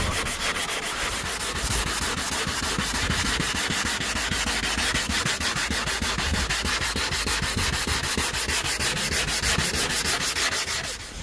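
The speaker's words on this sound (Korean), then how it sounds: "운전석 쪽에 헤드라이트 지금 또 빡빡 문지르고 있는데" Continuous, rapid back-and-forth scratching of coarse, worn sandpaper rubbed vigorously on a car headlight, close and steady for the whole stretch.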